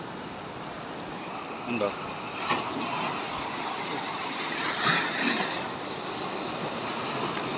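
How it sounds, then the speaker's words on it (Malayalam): Ocean surf on a rough wave-beaten shore at low tide, where mussels are gathered: a steady wash of breaking waves and rushing water with a couple of louder swells, under brief nearby talk. "ഇവിടെ എല്ലാം കംപ്ലീറ്റ് നല്ല തിരയടിക്കുന്ന സ്ഥലമാണ്."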